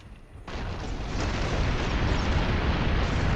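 Twilight Bombard artillery explosions in the BattleForge fantasy strategy game: a sudden heavy blast swells into a dense, sustained roar of rumbling impacts.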